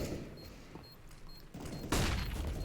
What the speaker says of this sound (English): Palinor, he do some predator shots, like empty a mag into the jungle